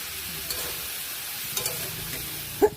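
Shrimp being stirred in a frying pan for a Bengali shrimp and Malabar spinach dish, a low steady sizzle with a few soft scraping stirs, one louder clatter near the end.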